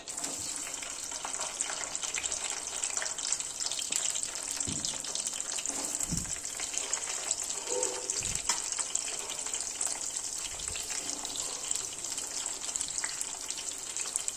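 Bitter gourd pieces frying in hot oil, a dense steady hiss that holds throughout, loud and close, with a few soft low knocks now and then.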